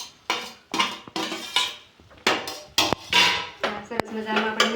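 A utensil stirs a besan mixture in a metal pot, clanking and scraping against the sides in an uneven series of sharp knocks, close and fairly loud.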